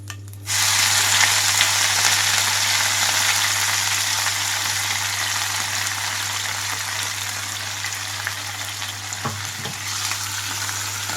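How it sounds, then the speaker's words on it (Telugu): Garlic cloves and fenugreek leaves fry in oil over a low flame, giving a steady, loud sizzle and crackle that runs throughout with no talking, plus a brief clatter near the end. "నాలుగైదు వెల్లుల్లి రెమ్మలు వేసుకుంటున్నాను వీటితో పాటుగా మెంతి ఆకు క్లీన్ చేసి పెట్టుకున్న మెంతి ఆకు మొత్తం వేసి వేయించుకుంటున్నాము"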